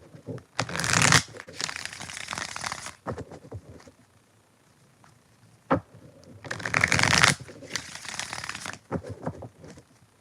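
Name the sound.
deck of tarot cards being shuffled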